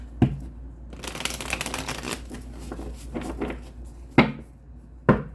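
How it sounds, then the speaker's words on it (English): Tarot cards being shuffled in quick riffling bursts, a rapid papery flutter followed by a few sharp taps as the deck is squared, close and fairly loud. "One more shuffle."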